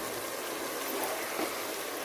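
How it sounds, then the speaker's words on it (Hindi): Water poured over rice in a pot while cooking chana mewa pulao: a steady, close splashing stream running without a break, with no talk over it. "इसमें हम अब पानी शामिल करेंगे"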